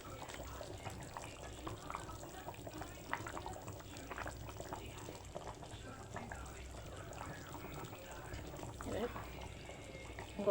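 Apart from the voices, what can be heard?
water poured into chicken curry, then simmering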